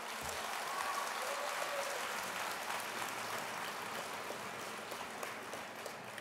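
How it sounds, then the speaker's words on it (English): Audience applause fills a keynote hall at a political convention, a steady wash of clapping that holds loud and even throughout with no voices on top. "Now you may applaud."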